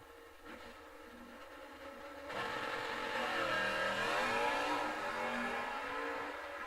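Stock-class drag race cars, including a 1966 Chevelle wagon, launch and accelerate down the strip, with a distant engine roar that swells into a loud, sustained rising drone before easing off.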